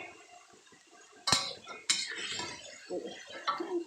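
Minced pork and glass noodles being stir-fried dry in a pan, with quiet scraping and a few sharper metallic clinks of a utensil against the pan.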